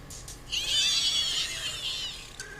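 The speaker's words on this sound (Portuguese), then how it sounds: "E o cavalo?" A horse whinnies once in a drawn-out, quavering neigh lasting about two seconds, moderately loud and heard alone against a quiet background.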